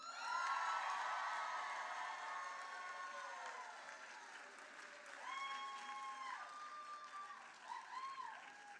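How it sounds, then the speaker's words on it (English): A commencement audience for a medical school physician assistant class claps steadily, a broad wash of applause with scattered whoops and cheers rising and falling, at a moderate distance. "if we can have one more big round of applause for our class of 2025"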